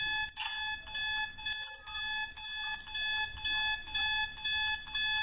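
Alarm triggered in a Vijeo Citect automation simulation of coffee production and packaging, sounding as a steady repeating electronic beep pattern of sustained tones with short gaps, loud and clear with no talk.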